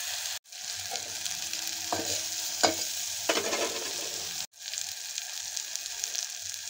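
Chopped potatoes for bhaji stir-frying in a pan, a continuous close sizzle with a handful of scraping stirs and brief breaks where the sound drops out.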